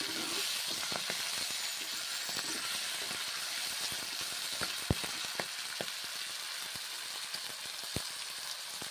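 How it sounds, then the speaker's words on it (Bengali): Green peas fry in a pan for a paneer dish, giving a steady sizzle with scattered sharp crackles and pops throughout, close and fairly loud, with no talking. "তারপর ভেজে নিচ্ছি, মটরশুঁটি দিচ্ছি, ভেজে নিচ্ছি।"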